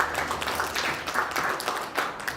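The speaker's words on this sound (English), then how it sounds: "Can we again give them a round of applause?" Audience applause at a memorandum signing ceremony between a Nigerian pharmaceutical institute and the University of KwaZulu-Natal, a brief, moderately loud burst of clapping from a gathered crowd.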